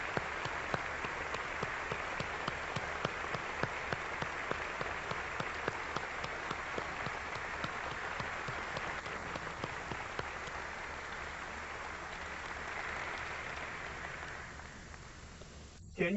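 A church audience applauds a guest at the Crystal Cathedral, steady dense clapping sustained at moderate distance with a voice speaking over it, the applause thinning toward the end.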